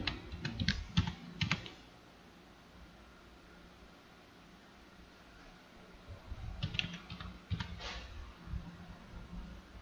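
Computer keyboard typing comes in two short bursts of quick clicks, close and fairly soft, separated by a few seconds of quiet room hiss.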